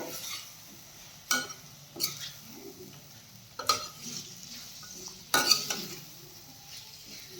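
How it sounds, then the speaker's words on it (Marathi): Paneer is stirred into vegetables for veg biryani in a pan, with a few sharp spoon scrapes and clinks spaced a second or more apart over a quiet background sizzle. "आता आपल्याला लगेच यामध्ये पनीरही टाकून घ्यायचं आहे, छान मिसळून घेऊयात।"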